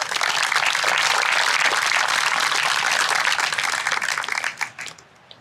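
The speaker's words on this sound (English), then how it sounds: "please give a round of applause for everything that you see today here" A crowd at a Vietnam War Veterans Day ceremony breaks into dense, loud applause that holds steady, then thins out and fades over the last second.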